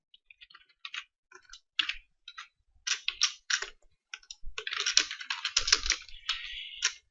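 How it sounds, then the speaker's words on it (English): A computer keyboard clicks under steady typing, starting with scattered sparse taps then building into dense rapid runs of keystrokes, close and clear with no voices. "I will type the configurations here."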